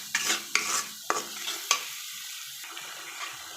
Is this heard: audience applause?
no